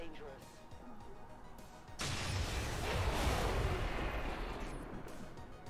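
A car blows up in the XCOM 2 video game with a sudden loud blast partway through, followed by a sustained roar of fire and rumbling debris that slowly fades, over a low bed of game ambience.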